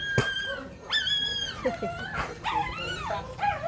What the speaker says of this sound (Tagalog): Marami silang alagang aso dyan.